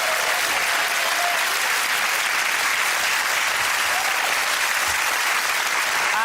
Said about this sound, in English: give that round of applause to Ed, Sara and Andy